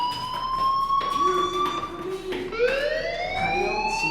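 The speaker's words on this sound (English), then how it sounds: "do you hear that fire alarm? That means you should be outside." A fire alarm rings in the video game Life is Strange, a loud, continuous electronic tone that slides upward in pitch, sweeping and repeating over several seconds with no talk over it.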